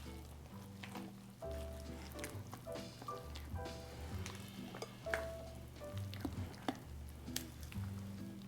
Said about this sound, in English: Add the carrot, raisin, and pecans